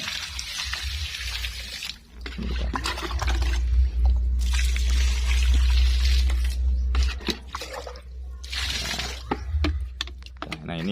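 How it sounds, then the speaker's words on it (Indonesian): Liquid fertilizer solution is poured and splashes around the base of a grape plant. The wet, trickling sound comes in close bursts with short pauses, and a low hum runs underneath. "Ini kita siram keliling."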